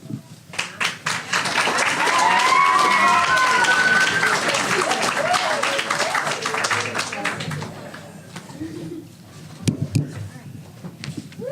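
Guests at a sports hall of fame ceremony applaud, starting with scattered claps that swell into a full, steady ovation, then die away into a few taps and voices.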